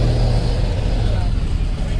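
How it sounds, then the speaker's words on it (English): A car with an exhaust rattle idles and rolls nearby at a Cars and Coffee meet, a loud low rumble holding steady, with people talking. "That dude's got like an exhaust rattle or something."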